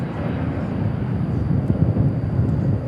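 An airplane roars steadily at DFW International Airport, a broad rumbling engine noise that holds for a few seconds, moderately loud.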